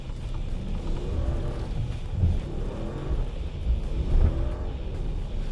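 Ram Rebel pickup truck driving in two-wheel drive over hard-packed sand, a continuous low engine rumble with rising and falling revs and tire noise, fairly close and steady throughout.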